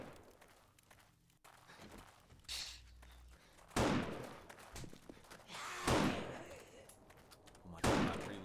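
Gunfire in the zombie survival game 7 Days to Die at night, three or four heavy booming shots spaced a couple of seconds apart over a steady background, with people talking throughout.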